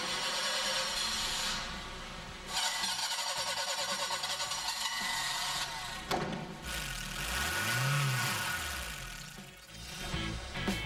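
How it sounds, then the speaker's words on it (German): A car engine cranks and then runs, with a steady mechanical drone, a pitch swell as it revs, and some rattles throughout. "Jetzt nur noch den Motor starten."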